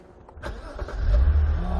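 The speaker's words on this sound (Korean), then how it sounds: "시동 다시 끌까요? 네, 다시 걸어보세요." A BMW car engine fitted with aftermarket intake and exhaust parts starts up, a brief crank followed by a low, steady idle rumble that swells and holds close by, with no talking.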